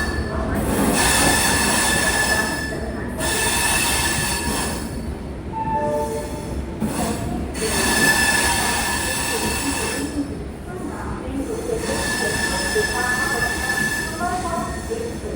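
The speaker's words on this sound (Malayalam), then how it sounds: "രാജമണ്ഡ്രിയിൽ നിന്നും 200 കിലോമീറ്റർ യാത്ര ചെയ്ത് ട്രെയിൻ ഇതാ വിശാഖപട്ടണം ജംഗ്ഷനിലേക്ക് എത്തുകയാണ്." Ernakulam–Tatanagar Express rolling into Visakhapatnam Junction toward platform 7, a continuous loud rumble of carriages with wheels squealing in bursts against the rails, interrupted by brief dips as the coaches pass.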